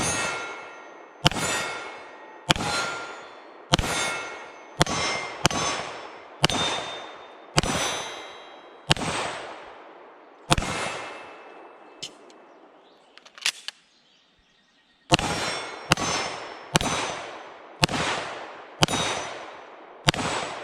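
A SAR9 SOCOM pistol fires Fiocchi 115 grain rounds at steel targets about 10 yards away, with a dozen or so sharp shots, each followed by a ringing metallic clang, in a steady rhythm broken by one pause.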